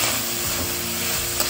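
Ingredients for fried rice, including green chilli and spring onion, sauté in a hot pan with a continuous sizzle and the scrape of stirring, steady and close.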